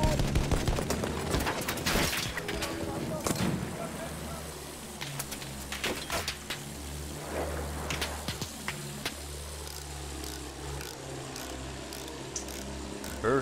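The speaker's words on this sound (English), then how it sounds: "There is a lot of shooting here" Rapid bursts of gunfire and scattered sharp shots in a war video game with attack planes and tanks, loud cracks over a droning engine rumble, with voices talking at times.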